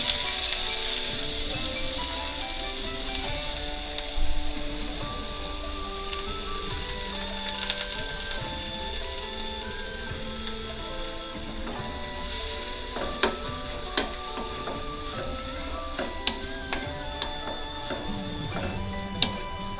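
Green chillies and onions fry steadily in a hot pan for an aloo samosa filling, giving a close, continuous sizzle and crackle with occasional sharper pops and stirring scrapes.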